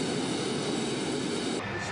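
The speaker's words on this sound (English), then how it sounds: "Give it a little more gas to help the engine come up to speed quicker." Jet aircraft engine spooling up after a fuel adjustment, a loud, steady broadband roar that holds evenly throughout and shifts slightly in tone near the end.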